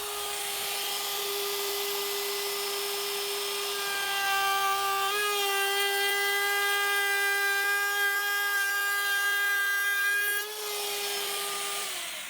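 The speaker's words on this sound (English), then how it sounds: "I always run a little test piece first just to check that it's giving me the right profile before I actually cut my workpiece." A power tool cutting a profile into a bamboo test piece, a strong tonal whine that climbs in pitch as the cut bites, holds steady, then eases off near the end, with no voices.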